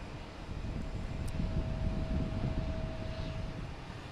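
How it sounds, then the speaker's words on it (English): A JetBlue airliner flies near Boston Logan Airport as a broad, steady engine roar that holds at a fairly constant level, with a thin faint tone running underneath. "Now we have JetBlue heading to Nantucket."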